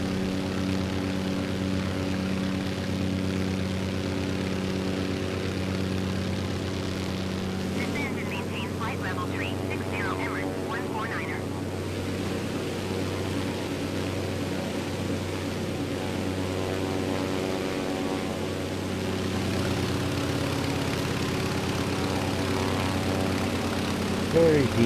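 Antonov propeller airplane in Microsoft Flight Simulator, flying over Zilina, Slovakia, with a steady, continuous propeller drone and engine hum throughout, while someone talks over it.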